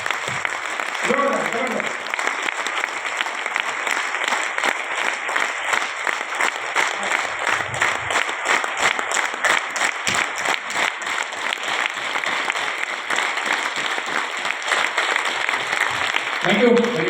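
An audience at an RCM business meeting claps together in a long, dense burst of applause that stays steady and full for the whole stretch, with no speech over it.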